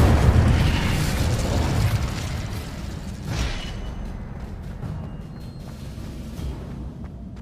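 Incendio fire spell cast in the Hogwarts Legacy video game: a loud, deep burst that opens into a fiery rumble, followed by a smaller flare, then tails off into a crackling game background.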